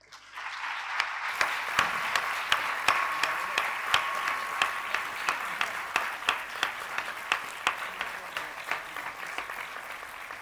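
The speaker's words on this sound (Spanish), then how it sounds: "Para todos vosotros pido un fuerte y merecido aplauso" Audience at a postgraduate graduation ceremony applauds the teaching staff, a dense, steady wash of many hands clapping that swells in after a brief quiet start and holds, with sharper individual claps standing out rhythmically.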